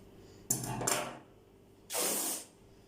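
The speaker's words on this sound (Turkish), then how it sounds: "Şöyle yırtıyoruz kumaşımızı" Fabric being torn by hand in two bursts, a ripping tear of about half a second followed by a second longer rip, close and fairly loud against a quiet room.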